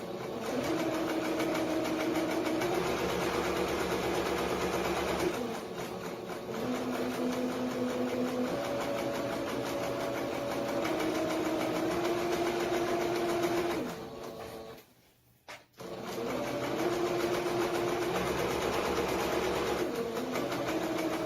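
A sewing machine runs a wide stitch through fabric with tight tension, its motor whirring steadily in long bursts with a brief pause near the middle, loud and close.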